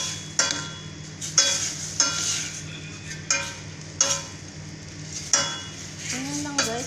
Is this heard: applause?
no